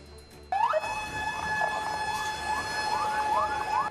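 A Bandung city fire engine siren, responding to a fire in Cipandung, West Java, starts abruptly and wails in repeated rising sweeps, steady and fairly loud, with no talking.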